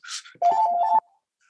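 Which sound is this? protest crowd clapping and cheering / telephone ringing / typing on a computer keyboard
telephone ringing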